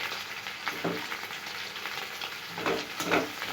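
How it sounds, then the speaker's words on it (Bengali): Pointed gourd frying in oil in a pan, a steady dense sizzle with occasional louder stirring scrapes, close and continuous with no talk. "পটলটা তো মোটামুটি ভাজা হয়ে গেছে মানে যখন একটু ভালো মতো ভাজা হয়ে যাবে"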